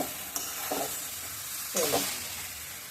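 Curry with green chilli being stirred in a pan, with a soft steady sizzle and a few scraping strokes of the spoon, faint and close with no talking.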